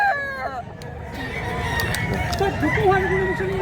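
Rooster crowing nearby at a Cebu gamefowl market, one clear crow followed by clucking and other birds, with people talking in the background.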